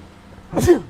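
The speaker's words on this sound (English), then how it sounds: "I meant to say sorry to you guys for sneezing" A single short sneeze, close and fairly loud, bursting out after a moment of low background noise.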